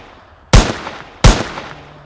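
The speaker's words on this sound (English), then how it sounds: "All right, then I shall shoot." Two loud pistol shots fired about three quarters of a second apart, each a sharp close crack with a brief ringing tail, standing alone without talk.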